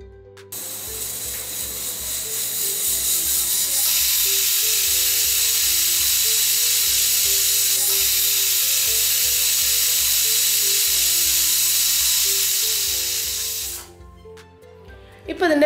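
A pressure cooker on a stove whistles and vents steam in a loud, continuous hiss that lasts about thirteen seconds and then cuts off, with soft music underneath.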